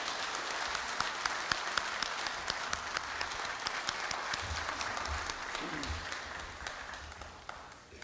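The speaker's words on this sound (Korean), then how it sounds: "큰 박수로 염재호 총장님을 맞이해 주십시오." Steady audience applause at Korea University's 110th anniversary ceremony as the university president is welcomed, a broad, continuous wash of many hands clapping with scattered sharper claps throughout.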